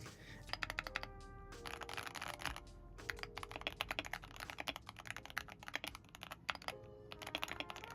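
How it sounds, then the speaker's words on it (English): Keys clack on a Wooting Hall-effect keyboard in bursts of fast typing, crisp close-up strikes with short pauses between runs, quiet and alone. "Here's how the keyboard sounds."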